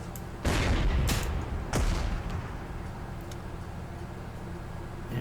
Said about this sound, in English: We can pop this artillery piece and then pop it again.